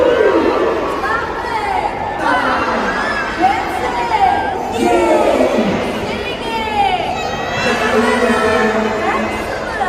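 Kids and grown-ups cheer and shout together at a children's play show in a Dubai mall, a loud, busy crowd roar with whoops and excited voices that rises and falls over about ten seconds.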